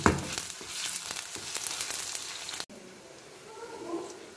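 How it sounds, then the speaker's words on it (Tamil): Large chopped onions sautéing in oil for a white pumpkin sabji, a steady close sizzle with stirring that drops to a quieter fry partway through. "நம்ம அரிஞ்சு வச்ச பெரிய வெங்காயத்தை சேர்த்துக்கலாம் வெங்காயத்தோட கலர் கொஞ்சம் சேஞ்ச் ஆகிற வரைக்கும் வதக்கணும்"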